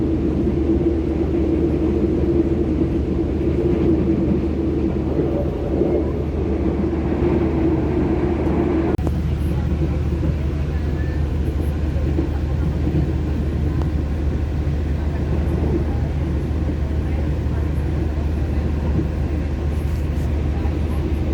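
The Prameks local commuter train runs along, heard from inside as a steady, continuous low rumble and rolling hum, with a brief jolt partway through and no talk.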